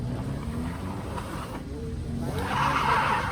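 Tires of a Mahindra XUV700 MX petrol spin on a snowy mountain road slope in Himachal, a continuous rough rush of engine and wheel noise that swells into a brighter hissing spin near the end.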